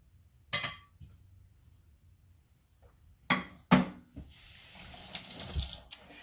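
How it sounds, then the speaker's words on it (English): A kitchen tap runs while hands are rinsed under it, heard after a few clinks of glass and utensils, with the splashing water steady and moderately close toward the end. "just going to rinse my hands because I've been touching things"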